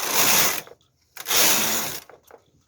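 The carriage of a knitting machine sweeps across the needle bed to knit a lace row. Two loud, rushing mechanical passes are separated by a short pause, and each ends with faint clicks.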